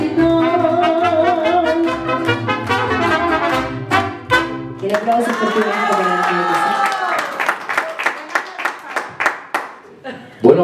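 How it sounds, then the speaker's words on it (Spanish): Mariachi music at a birthday party gives way to a crowd's clapping, first under sung trumpet-and-violin phrases, then breaking into distinct bursts of applause near the end. "El aplauso otra vez que se escuche para sentir la sorpresa."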